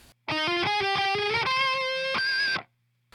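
An electric guitar with heavy distortion plays a quick picked riff from a song, with sliding notes and sustained bends, loud and close for about two seconds before cutting to silence.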